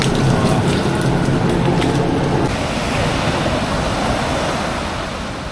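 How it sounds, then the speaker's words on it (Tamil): Rain falling on Hiriketiya beach in Sri Lanka blends with steady ocean surf, a continuous loud broadband wash that softens slightly after the first couple of seconds. "மழை வேலை பெய்யுது"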